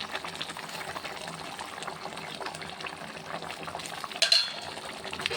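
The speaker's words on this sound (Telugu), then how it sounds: "మొత్తం అంతా బాగా మిక్స్ చేద్దాం." A spoon stirs chili powder, coriander powder and jaggery into a simmering bitter gourd stew, giving a soft, continuous scraping and wet churning with a brief louder clatter near the end.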